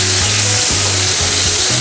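Pork frying in a hot pan after being flipped to cook the other side, a loud, steady, close sizzle that fills the whole moment without pause.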